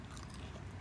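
Crunchy snap peas are bitten and chewed close to the microphone, giving dense, brief crunching with no talk.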